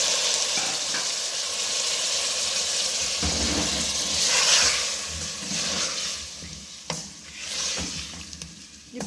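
Beef going into a hot frying pan for a stew, a steady sizzle and fry with stirring and scraping noises, close and continuous throughout.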